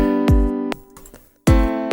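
Synthesized standard triad chords from music production software sound in short, even hits. Two chords, a brief quiet gap, then two more chords, each with a sharp attack and a quick stop.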